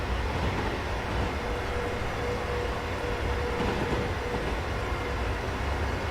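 A Pendolino train driven along the Woodhead line in Train Sim World, a steady loud rolling rumble and motor hum that continues without a break throughout.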